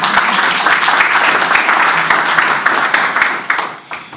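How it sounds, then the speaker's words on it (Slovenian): An audience at an agricultural fair presentation on young farmers applauds a farmer's father, a loud, dense patter of many hands with individual sharp claps standing out, tapering slightly toward the end. "In skupaj se lahko mu date en aplavz"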